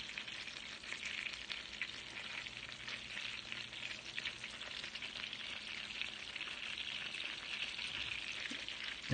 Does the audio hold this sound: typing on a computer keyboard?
no